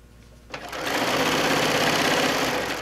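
A sewing machine runs up to speed stitching a quarter-inch seam on fabric binding, a close, steady rapid whirring rattle after a soft click at the start.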